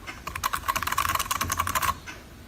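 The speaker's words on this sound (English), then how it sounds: "Wow, clicky keyboard." Fast, crisp clicking from a clicky computer keyboard on a retro CoCo setup, close and distinct, a flurry of keystrokes lasting under two seconds with no talking.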